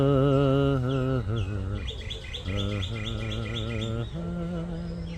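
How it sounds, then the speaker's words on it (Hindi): Birds chirp nearby in a lively, warbling series of high calls. Steady sustained tones sound underneath them throughout. "परिंदों की आवाज़ें"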